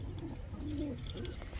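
Pigeons coo softly and repeatedly, a low throaty murmur rising and falling across a short stretch, heard close and alone with steady background hum.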